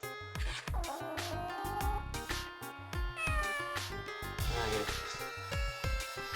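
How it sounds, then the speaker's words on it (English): A cat meows repeatedly in the video game Phantasy Star Zero, drawn-out plaintive cries over busy rhythmic game music with percussion, close and clear throughout. "If we look over here, we have a cat."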